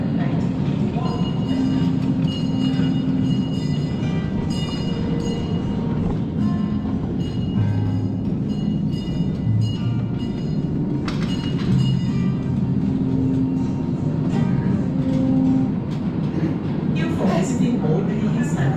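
A sightseeing tour train rolls through Belize with a steady, dense rumble of wheels and carriages that continues throughout, with faint clicks and occasional higher metallic tones over the top.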